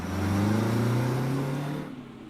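A bus engine revs loudly in a Family Guy cartoon scene, a steady mid-pitched roar rising in pitch for about two seconds before cutting off abruptly.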